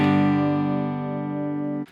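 Acoustic guitar tuned down to open G, a single strummed chord ringing out loud and steady for nearly two seconds before being cut off, no voice over it.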